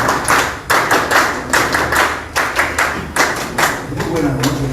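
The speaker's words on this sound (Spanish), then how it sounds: "recibiendo con fuertes palmas la primera exposición del ingeniero Jesús Salazar Nishi" Audience giving strong applause at the start of an engineer's talk during a Peruvian social agenda session on industrialization: dense, loud, continuous hand clapping from a crowd filling the whole stretch.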